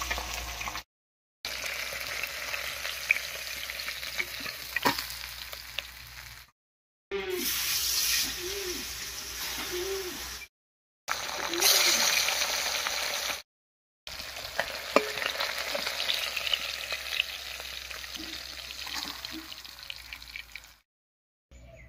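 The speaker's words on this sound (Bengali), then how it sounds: "আজকে মাছগুলো একটু বেশি করে ভেজে নিলাম" Pabda fish sizzle and spatter steadily in hot oil in a pan, a loud continuous frying hiss broken by a few short gaps, with no talking.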